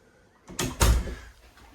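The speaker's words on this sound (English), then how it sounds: "We're going to go in the back door" A house's back door is opened, giving a soft click followed by a louder thud and brief rattle close by in a quiet room, with no talking over it.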